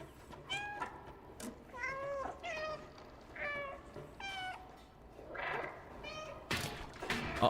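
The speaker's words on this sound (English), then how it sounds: "Still meowing." A cat in the video game Stray meows repeatedly, a series of clear, fairly close meows at irregular intervals over faint background ambience.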